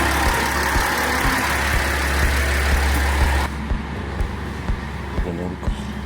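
A one-man local train in Yamaguchi, Japan, with its engine running: a loud, close, steady low rumble and hum that drops to a quieter idle partway through.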